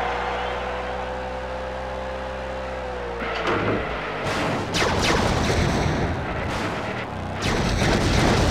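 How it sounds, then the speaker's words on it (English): The Annihilator weapon firing in the WWE Crush Hour video game, a droning humming tone giving way to repeated heavy booming blasts and bursts, loud and close, with no talk. "Stacy Keebler shooting in all directions."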